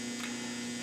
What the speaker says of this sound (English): Can we get this dryer shut off?